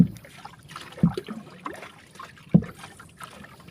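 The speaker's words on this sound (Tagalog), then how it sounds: "Ang hirap magsagwan. Sobrang lakas ng hangin. Lakas pang alon." Paddle strokes of a small boat dip into choppy water against strong wind at a slow, regular pace, about one every second and a half, with soft splashes and trickling between them.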